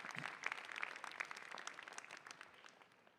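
Audience at a business school commencement ceremony gives a round of applause for alumni, fairly faint clapping with a few distinct claps early on, tapering off toward the end.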